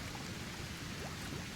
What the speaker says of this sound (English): There comes the rain I just spoke of.